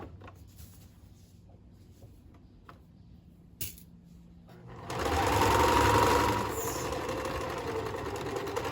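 After a few quiet clicks and handling sounds, a sewing machine starts up and runs in a steady, fast whirring hum for several seconds, straight stitching with a size 14 needle.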